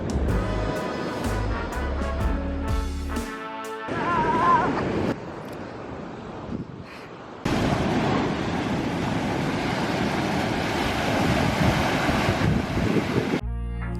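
Ocean surf crashes on an Oahu beach in Hawaii, a loud continuous wash of breaking waves with wind noise on the microphone, interrupted by a brief quieter stretch and some tonal background sounds early on.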